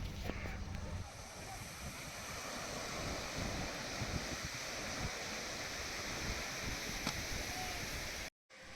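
Sea waves wash onto the beach at Saint Martin Island, a steady broadband surf roar mixed with wind buffeting the microphone, continuous and fairly near, with a brief dropout near the end.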